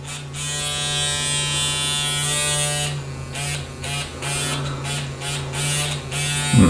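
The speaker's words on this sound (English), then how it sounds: "let's use that trimmer blade" A Gillette Fusion 5 Power razor's trimmer blade buzzes steadily and close up, a continuous motorized hum with a slight wavering in tone partway through, no talking over it.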